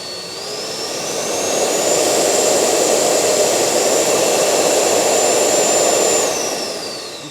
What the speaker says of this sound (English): here's our thrust meter. Go ahead, Dave. Go ahead and put tension on